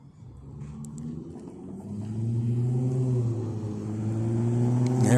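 A Route 60 city bus pulls up to a Phoenix street stop, its low engine drone swelling steadily louder and nearer over several seconds, heard alone without voices.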